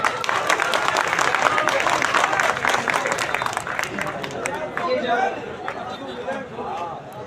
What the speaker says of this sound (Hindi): तालियां बजाइए एक बार जोरदार।